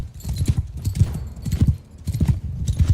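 Galloping horse hooves in Mount & Blade 2 Bannerlord, a steady rapid clip-clop rhythm repeating close and loud throughout, with no talk over it.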